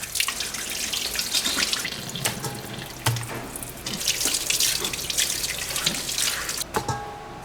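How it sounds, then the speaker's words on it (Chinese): Running water from a kitchen tap while a burnt pot is scrubbed clean: a steady close splashing rush with scattered clunks and scraping clatters from the pot, no talking. "把上面烧焦了的这一部分给它擦洗干净哈。"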